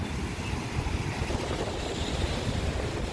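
Water rushing over a broken concrete-and-stone check dam at Madurantakam lake, pouring down roughly ten feet, makes a loud, steady, dense roar that fills the whole stretch with no voices.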